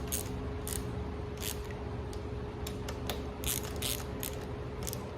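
A ratchet clicks in quick, uneven bursts while tightening a mini bike's throttle assembly, close and crisp over a steady background hum.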